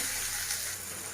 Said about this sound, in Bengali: দিয়ে দিলাম টমেটো কুচি করে রাখা, দিয়ে ভালো করে ভেজে নেব।